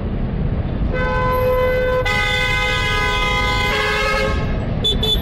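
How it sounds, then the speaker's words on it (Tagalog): A Vespa Prima scooter's sustained, buzzy horn blares for several seconds over a rumbling engine, then cuts off, followed by a couple of brief chirps. "Ganda na aking busina. Nakakatakot."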